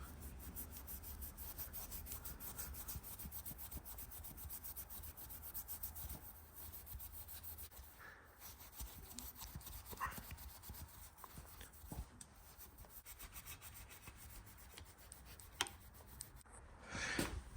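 Steel wool and aluminum polish are rubbed over corroded aluminum, making a quiet, steady scratchy scrubbing in repeated strokes, close but faint, with occasional small knocks.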